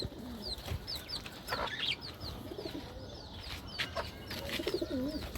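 Pet quails, several pairs with young, give repeated short calls and soft chirps at close range over a faint background hum, with no talk.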